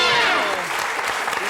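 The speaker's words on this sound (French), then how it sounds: "je propose d'applaudir un jeune Australien" A TV game show studio audience breaks into loud, dense applause, steady and close throughout the short burst.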